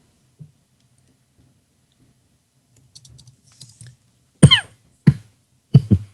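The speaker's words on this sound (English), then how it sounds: "I'm trying to not cough into the microphone here" After a few faint clicks, three short, sharp coughs come close together near the end, loud and close against a quiet background.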